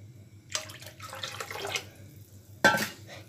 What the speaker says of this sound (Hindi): इसमें थोड़ा पानी और ऐड करूँगी